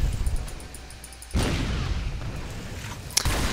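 A single deep, booming rocket launcher blast in the online shooter Project D Online, a sudden loud burst that rumbles on, followed by a second sharp crack near the end.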